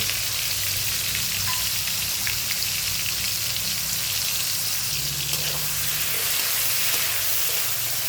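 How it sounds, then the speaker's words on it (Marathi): Tomatoes and garlic sauté in a pan with a loud, dense, continuous sizzle like steady rain, close and unbroken throughout, with no talking. "आता छान परतून घेऊ त्यात थोडंसं मीठ टाकून घेऊ म्हणजे टोमॅटो लवकर परतून होतील"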